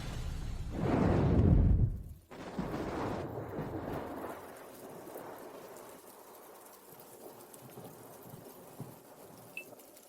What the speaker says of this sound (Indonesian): di luar hujan deras